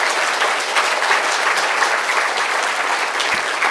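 A conference audience applauds the organizers and volunteers with dense, steady clapping filling the room for several seconds without letting up.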